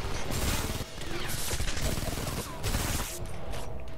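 Rapid bursts of gunfire from the video game Homefront fire in dense, loud volleys, broken by short pauses between the streams of shots.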